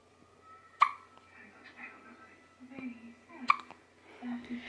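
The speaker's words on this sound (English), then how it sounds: "She always gets the hiccups after she eats." A newborn baby girl hiccups after a feeding, giving two sharp, distinct hiccups a few seconds apart with soft background sounds between them.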